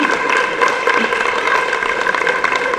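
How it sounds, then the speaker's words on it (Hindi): Applause from a crowd at a Chandigarh honouring ceremony, given for a performer named Scott: steady, dense clapping throughout, fairly loud and unbroken. "स्कॉट के लिए तालियां बजनी चाहिए"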